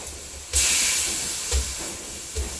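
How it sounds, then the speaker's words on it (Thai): Wai Wai instant noodles stir-fried in a hot pan with only a little water, giving a loud steady hiss of steam with a few soft scraping knocks from the spatula. "ผัดให้เส้นแห้งครับ ให้พอหมาดๆนะ"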